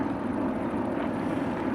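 A radial-engined Yak-52 trainer aircraft roars past during a pylon air race, making a steady, loud propeller drone with no clear rise or fall over the short stretch.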